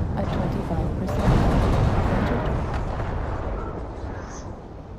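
An ultra autocannon fires in a mech combat video game, heard as a dense, continuous rumble of heavy booming shots. Game voice alerts and talk are mixed into the background.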